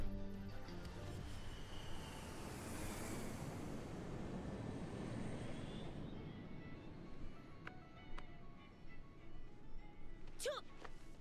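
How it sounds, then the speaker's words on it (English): Airplane engine roar in a Tekken 8 cutscene, a steady broad drone that slowly fades, with a rising whine early on and a few sharp clicks and tones near the end as voices speak over it. "That plane's got no seatbelts."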